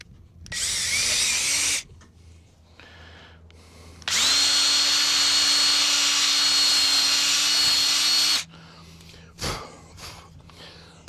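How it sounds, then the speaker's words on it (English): A power drill bores a 5/16-inch hole into an arrow shaft, running in two loud, steady bursts of whirring with a short pause between, followed by a few faint knocks and handling noises. "we need to drill our hole in our arrow here"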